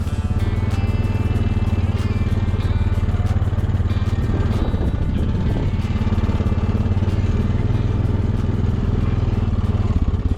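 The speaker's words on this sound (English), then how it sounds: "to go start the tractor, let it warm up a little bit." A tractor engine runs steadily on an Alaskan homestead in the morning as it warms up, giving a continuous, loud, low clattering rumble with no pauses.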